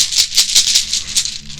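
Something shaken in a container during a cat-themed oracle card reading, giving a rapid run of bright rattling bursts, about five or six quick shakes, close and fairly loud with no talking.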